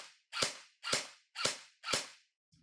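Airsoft replica gun fired on semi-automatic, four sharp evenly spaced cracks about half a second apart, loud and close, with no talking.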